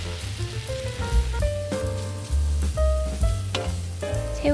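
Close, steady sizzling of rice noodles and shrimp frying in a pan for pad thai while camping, broken by occasional clinks and scrapes of a spatula stirring.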